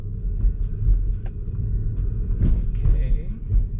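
A car on Full Self-Driving in Albuquerque, New Mexico rolls over a big bump in the road, a deep low rumble of the tires and suspension with a few thuds, under intermittent speech in the cabin.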